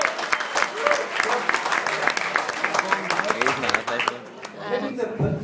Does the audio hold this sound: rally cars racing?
no